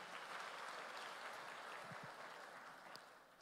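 Church congregation applauding during a prayer service, a steady, dense clapping wash that fills the short stretch evenly, fairly soft and distant, with no talking over it.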